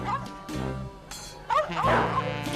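Cartoon dogs barking and yipping in quick bursts over a busy musical backdrop, with a voice speaking briefly partway through.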